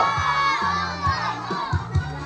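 A crowd of children shouts together in answer to a call, a loud burst of excited voices with several shrill peaks of cheering that rise and fall close by.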